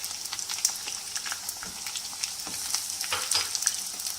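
Ginger garlic paste sizzles and crackles in hot oil, a steady frying hiss with scattered pops and occasional stirring scrapes, close up.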